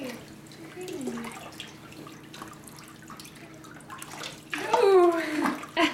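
Water splashes and sloshes in a tub during a baby's first bath, with soft intermittent splashing and dripping, a louder burst of splashing near the end, and people talking quietly alongside.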